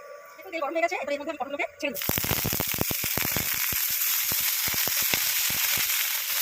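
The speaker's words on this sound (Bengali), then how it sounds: "পটলগুলোকে ঢাকা দিয়ে নাড়াচাড়া করে নিয়ে ভেজে নেব" Pointed gourd frying in mustard oil in a frying pan, a dense steady sizzle that bursts in loudly after a brief spell of other sound and carries on with scattered sharp pops and crackles.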